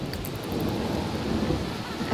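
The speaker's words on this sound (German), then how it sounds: "aber es regnet wirklich extrem stark" Heavy rain in the game The Sims 3, a dense, constant roar of downpour with a low rumbling undertone, loud and steady throughout with no voices.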